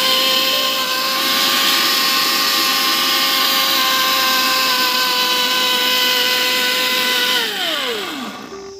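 A kitchen mixer-grinder runs steadily, grinding coconut and poppy seed for a Bengali steamed egg dish, with a loud, even motor whine that holds for about seven seconds, then spins down and stops.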